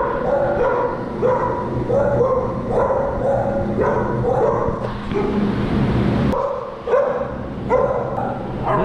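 Dogs bark, yip and whimper continuously inside the Seminole County Animal Shelter, with overlapping barks from several nearby animals and a few fainter voices mixed in.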